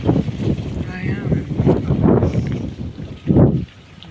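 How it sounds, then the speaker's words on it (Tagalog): Strong wind on a farm buffeting the microphone in deep, rumbling gusts that rise and fall, loud and close, with a voice faintly audible beneath it. "Ang lakas ng hangin."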